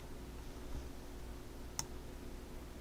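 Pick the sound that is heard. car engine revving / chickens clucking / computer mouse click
computer mouse click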